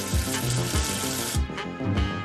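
Cartoon water splashing and running as soap is rinsed off a letter, a loud continuous gushing with rhythmic low sloshing pulses and no voices.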